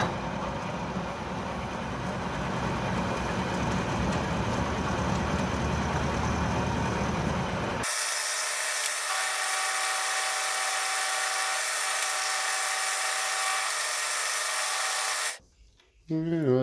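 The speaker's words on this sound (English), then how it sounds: "I'm gonna set up the milling attachment and mill some slots in here" A milling attachment on an Atlas 10-D lathe cuts slots in a spindle thread protector, a loud, steady mechanical whine and buzz that shifts abruptly to a higher, thinner tone midway before cutting off near the end.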